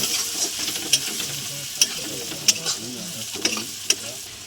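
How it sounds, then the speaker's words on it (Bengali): Spice masala of cumin powder and Kashmiri red chilli fries in a pan for mutton, a steady close sizzle broken by sharp scraping clacks of a spoon stirring every half second or so. "মশলাটা কষিয়ে নেব।"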